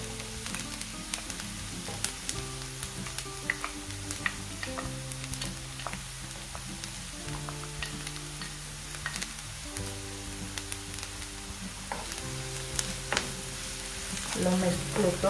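Chopped bell pepper frying and being stirred in a pan, a steady broad sizzle with occasional scrapes of the spoon, while background music plays under it throughout.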